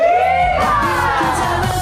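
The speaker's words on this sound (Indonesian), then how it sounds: "tepuk tangan buat Ahmad Dhani" Studio audience on an Indonesian comedy show cheering and whooping loudly, a dense roar of voices with rising yells filling the whole moment.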